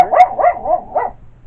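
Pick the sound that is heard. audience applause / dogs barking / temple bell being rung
dogs barking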